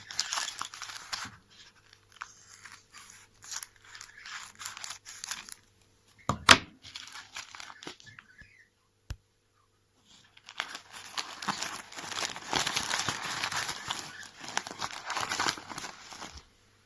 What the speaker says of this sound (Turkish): Şöyle açalım kargomuzu.